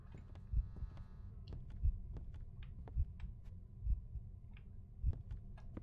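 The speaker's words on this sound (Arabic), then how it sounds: "في صوت دقات قلب." Heartbeat in the horror video game Is Simon There: low, muffled thumps pulsing steadily about once per second over a faint hum, with scattered small ticks above.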